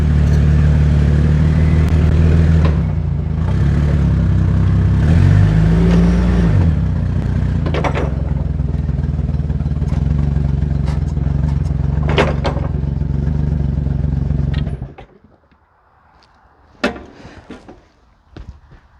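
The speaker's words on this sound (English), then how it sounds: "the best thing about this truck is driving it and hearing this thing go down the road" A heavy 1947 Federal resto-mod truck's engine rumbles loudly and steadily as it drives down the road, with occasional clatter, then cuts away to near quiet with a few faint clicks.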